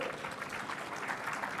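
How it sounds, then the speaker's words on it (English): Audience applause for a conference panel at a defence conclave, a steady, fairly faint wash of clapping from a seated crowd that holds evenly throughout without voices on top. "Can I have a round of applause for the panel?"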